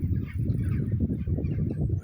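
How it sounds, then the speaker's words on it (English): A dense flock of geese or similar fowl honks continuously, many overlapping calls close by and fairly loud, with no speech. "These birds, copious amount of them down here where I live."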